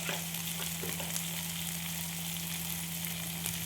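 Soybeans sizzle and fry in a pan, a steady, close, continuous crackling hiss with faint stirring and no talk.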